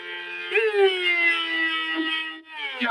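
An ambulance siren sound effect wails loud and close, one continuous sustained tone that swells and bends in pitch, then dips briefly and rises again near the end, alone with no talk.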